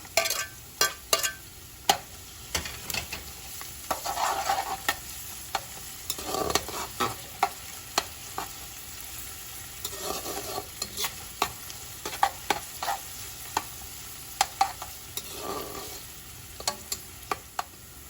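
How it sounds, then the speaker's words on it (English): Scallions sizzle and crackle steadily in a hot pan, with frequent sharp ticks and scrapes from stirring, close up and without talk. "This has been frying up for like about 5 minutes now, and I'm just gonna add the"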